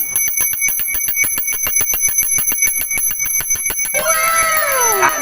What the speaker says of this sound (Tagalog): iikot-ikot nyo lang po itong bell, patunugin nyo siya